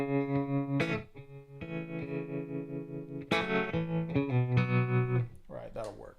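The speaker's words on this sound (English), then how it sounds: "Now we can just have a tremolo in there" Electric guitar played through a Fractal AM4 modeler with a tremolo effect, sustained chords and single notes pulsing in a steady rhythm, clear and close, with a brief voice near the end.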